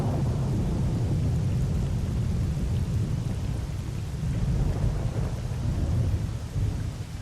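Steady heavy rain in the video game S.T.A.L.K.E.R.: Call of Pripyat with the Misery mod, with a deep, continuous rumble of thunder rolling underneath, loud and unbroken throughout, with no voices.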